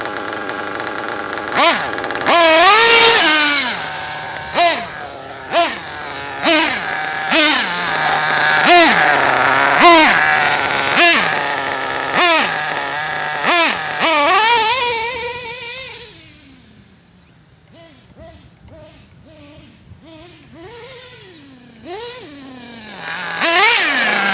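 Nitro RC buggy, a Mugen MBX7T fitted with a Pico engine and Triton pipe, revving in a dozen sharp throttle blips with rising whines, loud and close, then settling to a rough, quieter idle before picking up again.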